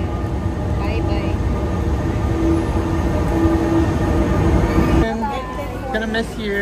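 A train pulls in at a station platform in The Hague, its steady rumble and rail noise filling the scene loudly and continuously, then shifting as it comes to a stop; people talk over it.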